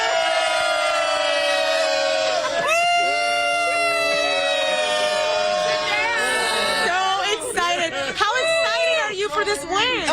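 A crowd celebrates a win at a victory party at Zendejas, with loud whooping, screaming and horn-like shouts over dense babble; people talk nearby throughout.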